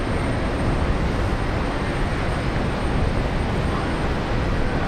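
An Airbus A220 airliner at Brisbane Airport produces a loud, steady broadband engine roar that stays constant and unbroken from start to finish.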